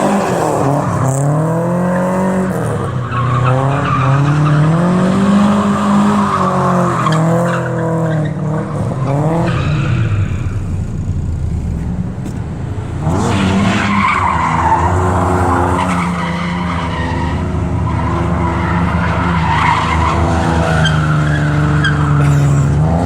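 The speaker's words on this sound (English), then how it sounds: "There goes the second gear burnout." Nissan 300ZX drift car doing a second gear burnout, with a loud, close engine roar and heavy tire squeal, easing briefly midway before surging again.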